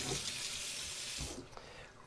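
Water pours steadily from a newly installed kitchen mixer tap over a stainless steel sink, a broad close rush that cuts off sharply about two-thirds of the way through, leaving a faint trickle and drips.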